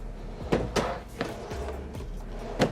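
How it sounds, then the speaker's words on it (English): A few soft thuds and light wooden knocks as soft-close drawers in a 2022 Newmar Kountry Star 3717 RV slide shut gently, several in a row, close by in a quiet room. "These are all the soft closed drawers."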